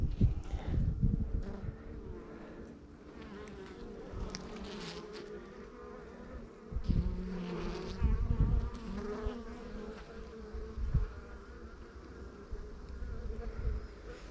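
Honey bees buzz down in a hive brood box during a drought heat wave, a close, dense hum with individual wingbeats rising and falling and occasional bumps and knocks.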